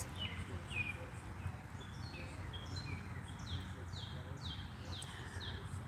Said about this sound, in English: Listening to the birds and waiting for the deer.